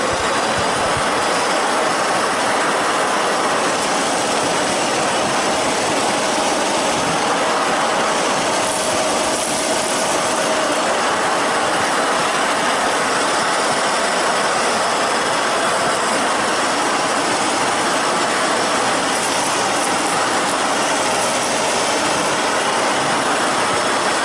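A Vax Air Revolve Pet canister vacuum cleaner runs continuously for the whole stretch, a loud, steady whooshing suction roar with slight shifts in tone and no talking.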